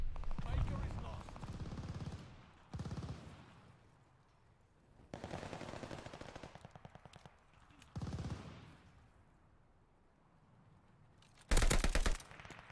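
Bursts of automatic STG44 fire in Call of Duty Vanguard, several sustained rattling strings of a second or two each separated by quieter gaps, with a final loud close burst near the end.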